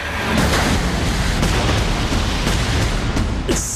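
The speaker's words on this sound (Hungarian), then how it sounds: "60 tonna robban ki a belsejéből." A huge film-set explosion bursts from a 60-ton tank during a stunt for Fast & Furious 6, heard as a loud, sustained roaring boom with rumbling debris throughout.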